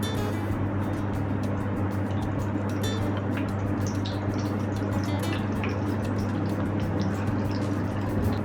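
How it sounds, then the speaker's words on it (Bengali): Zucchini pieces deep-frying in hot oil for a crispy mixed vegetable pakora, with a steady close bubbling sizzle and a low continuous hum underneath, no talking. "চুকিনিগুলি আরও একবার ঢেলে দিচ্ছি পুরোপুরি ফ্রাই করার জন্য।"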